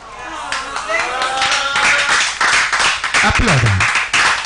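A small audience claps for chefs during a Naijachefs hub live stream, scattered hand claps building over a few seconds, mixed with voices talking and cheering over them.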